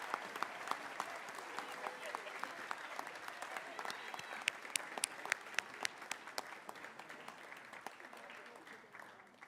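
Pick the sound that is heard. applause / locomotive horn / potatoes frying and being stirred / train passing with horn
applause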